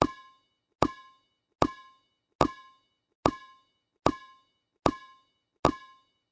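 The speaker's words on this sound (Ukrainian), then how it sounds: "Цей звук з'являється тоді, коли м'яч торкається підлоги" A ball bounces eight times at a steady, even pace, each bounce a sharp, resonant thud that rings briefly before fading into silence.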